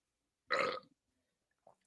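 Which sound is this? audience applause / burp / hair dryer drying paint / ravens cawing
burp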